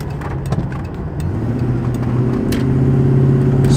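A car driven on local roads, its engine note rising steadily as it gathers speed, with a continuous low rumble and tyre noise close by throughout.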